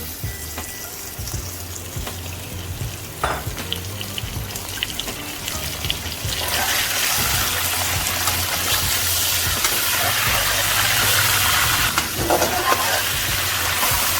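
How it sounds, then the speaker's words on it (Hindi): Chicken pieces hitting hot oil with light-browned onions in a cooking pot for chicken biryani, starting as a quiet sizzle and surging into a loud, steady, hissing fry halfway through, with no talking. "अब हम इसमें ये चिकन डाल देंगे।"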